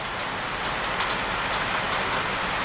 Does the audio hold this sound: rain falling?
yes